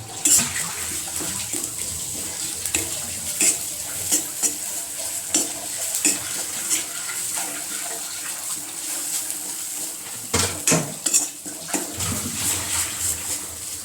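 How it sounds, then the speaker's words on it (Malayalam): Grated coconut roasting in coconut oil in a pan for an onion theeyal curry, a soft continuous sizzle with intermittent scraping stirs and clinks, close and moderately quiet, with no talking. "തേങ്ങ വറുക്കാനിട്ടുണ്ട്"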